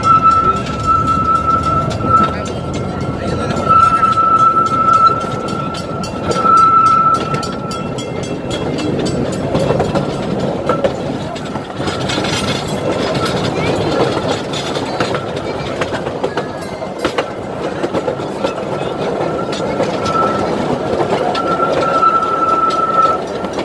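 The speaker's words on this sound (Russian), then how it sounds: "Поедем на паровозике вокруг парка." Miniature park train rolling around a loop at Old Poway Park, with steady rumble and rhythmic clickety-clack of wheels on track and occasional squeals, sustained and fairly close throughout.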